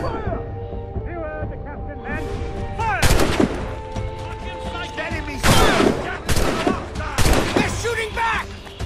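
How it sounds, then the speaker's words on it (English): Bursts of gunfire from the video game Assassin's Creed Rogue crack out in several loud volleys, some rapid like fusillades, over tense background music and shouting voices. "They're shooting back!"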